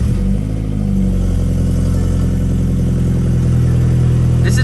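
A BMW E30 car engine with a new exhaust starts and idles loudly and steadily with a deep exhaust rumble, close by and continuous throughout.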